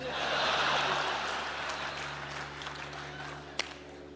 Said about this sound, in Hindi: समापन पर भरपूर तालियां बजा देना